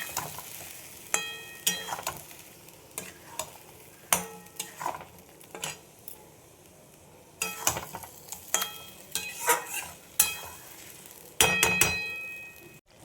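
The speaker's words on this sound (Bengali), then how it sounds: "এইবার মশলার সাথে আমি মাছটা কষিয়ে নেব" Fish sautés with spices in a pan, with a soft background sizzle broken by repeated sharp scrapes and clinks of a utensil stirring against the pan, uneven in rhythm and close by.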